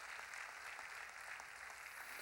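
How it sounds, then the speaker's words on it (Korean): Church congregation at a Sunday worship service applauding, a dense steady wash of clapping from many hands, faint and distant throughout. "박수로 하나님께 영광을 돌리죠"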